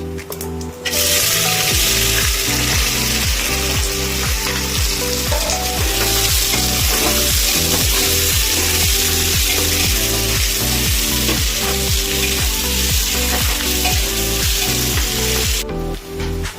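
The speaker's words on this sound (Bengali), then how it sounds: "তো বন্ধুরা দেখুন এখানে প্রায় 10 মিনিট মতন পেঁয়াজটা কিন্তু ভাজা হয়েছে।" Chopped onions fry in hot oil with whole spices for a reyazi mutton curry cooked with goat fat, a loud, steady close-up sizzle with repeated rhythmic stirring scrapes throughout, and no voices.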